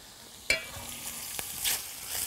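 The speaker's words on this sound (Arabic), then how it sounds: "نقلب كده." Spoon stirring rice in a frying pot, with faint scraping and a sharp clink near the start, followed by soft quiet scrapes over a low kitchen hiss.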